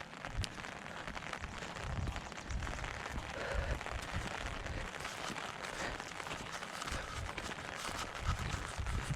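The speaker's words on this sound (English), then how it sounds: "Rain, rain, go away." Steady rain patters on surfaces during a walk outdoors, a continuous hiss that holds at an even level throughout with no talking.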